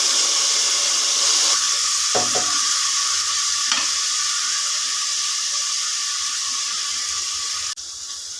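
Ground tomatoes sizzle loudly in a hot pan while cooking for a white chickpea (vellai sundal) biryani, a steady fry hiss broken by a couple of brief scraping stirs.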